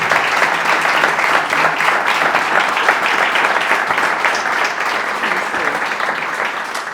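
Loud, sustained applause from an audience at the end of a public conversation with Daniel Giralt at Fundació Suñol, a dense wash of clapping that holds steady for several seconds and eases slightly toward the end.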